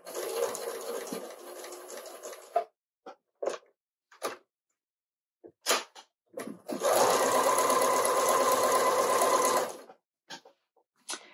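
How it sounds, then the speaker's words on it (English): A sewing machine top stitching along the upper edge of a half apron's tie and waistband, with a steady run of stitching, then several short stop-start bursts, then a longer continuous run, all close and fairly loud. "We're going to continue top stitching along the upper edge of the tie and the waistband."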